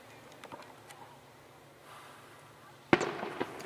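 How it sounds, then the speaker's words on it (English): Fireworks going off outdoors during a solar eclipse: a few faint distant pops early, then one sharp loud burst with crackling that fades into scattered smaller pops. "Ba-boom! Fireworks."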